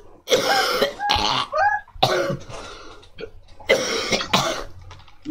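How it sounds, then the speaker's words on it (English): A Minecraft character coughs repeatedly in harsh, close fits, several rough bursts separated by short breaths. "You start coughing"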